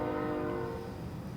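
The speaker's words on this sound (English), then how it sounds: "sorry for the train" A train passing outside with its horn sounding, a steady sustained blare over low rumbling rail noise, fairly loud and continuous throughout the short stretch.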